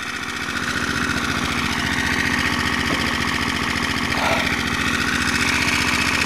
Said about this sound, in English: Running some engines at night